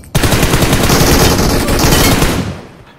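An MG3 machine gun fires in a video game, a loud, dense, sustained burst of rapid shots running nearly three seconds before tapering off, with no talk.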